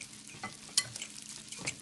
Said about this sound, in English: the trick to this, to having a nice fluffy pancake, is to not over whisk